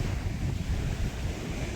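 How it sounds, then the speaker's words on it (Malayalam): Sea waves wash in a continuous low rumbling surge beside a seaside temple at Kattilmekkathil, mixed with gusts of wind buffeting the microphone. "കടലിനോട് ചേർന്ന് അമ്പലത്തിരിക്കുന്നത് കേട്ടോ"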